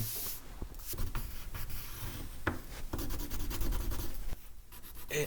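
Close-up scratchy strokes of an oil pencil on paper, rubbing back and forth in short, irregular bursts.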